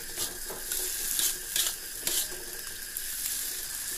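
Fried kwetiau noodles being stirred in a wok, a steady sizzle with repeated scraping and clanking of the spatula against the pan, close and continuous without talking.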